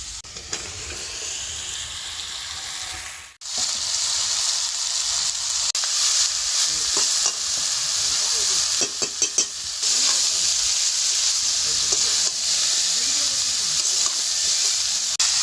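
Chopped bottle gourd goes into hot spiced oil for a prawn ghonto. A brief lull gives way to a louder, continuous sizzle, with scattered scraping stir strokes and a quick cluster of clatters midway.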